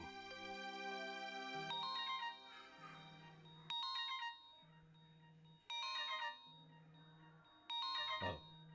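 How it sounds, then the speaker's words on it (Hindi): A phone plays a repeating ringtone for an incoming call, a melodic chime pattern recurring every couple of seconds at moderate volume indoors, with no talking. "आओ, बुबुल का फोन"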